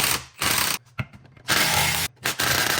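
A ratchet with a T50 Torx bit works loose the driveshaft bolts on a 2015-2020 Dodge Charger Hellcat, giving loud bursts of metallic clicking and grinding separated by short pauses.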